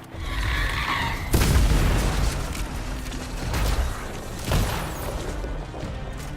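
Explosions in the video game Anthem boom and crash in a dense burst, with a big blast followed by rumbling debris and further impacts, loud and layered throughout.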